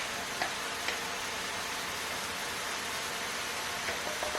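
Butter sizzles in a pan with a constant, even hiss close by. A couple of light ticks sound near the start, and there is no talking.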